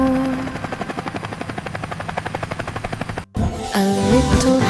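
An animated helicopter in a 3D cartoon nursery rhyme flies with a fast, steady rotor chop that pulses evenly and loudly, then cuts off briefly before music and bouncy cartoon effects take over.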